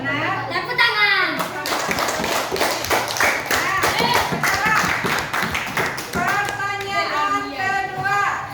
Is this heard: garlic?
no